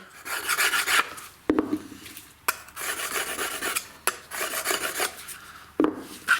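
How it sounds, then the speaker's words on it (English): Stone-carving chisels for hammer-and-chisel lettering are sharpened with close, harsh rasping strokes, about five back-and-forth passes, each separated by brief pauses and sharp clicks. "So we'll sharpen the chisels."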